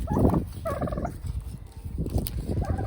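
A turkey gobbles nearby in a few loud rapid bursts separated by short pauses, heard alone.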